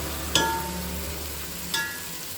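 Onions sauté in a pan for paya biryani. A soft, steady sizzle runs throughout, broken by two sharp clicks, with no talk.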